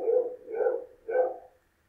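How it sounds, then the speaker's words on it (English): Dog barking indoors, three evenly spaced mid-pitched barks that are close and clear, with no other sound around them. "Sorry for the dog voice."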